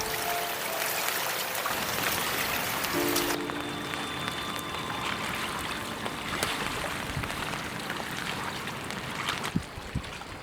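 Steady rain falls outdoors on a nature-filming day beside water where great crested grebes and ducks live, a dense even hiss of drops close by with a few sharper splatters and no voices.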